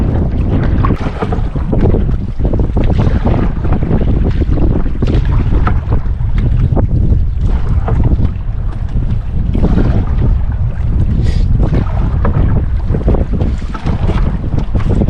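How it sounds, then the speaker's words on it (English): Strong, steady wind buffets the microphone while a canoe is paddled across a lake in Temagami, with a constant loud roar of gusts and water noise and no talk. "we'll see if we are able to get any further with this wind"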